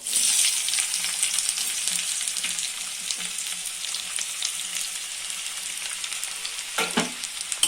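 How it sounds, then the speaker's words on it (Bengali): Chopped onion sizzles in hot oil for a Bengali dhaba-style tadka, a steady close hiss with light stirring scrapes and a sharp utensil knock near the end. "প্রথমে আমি কুচনো পেঁয়াজটা আমি তেলে দিয়ে দেবো"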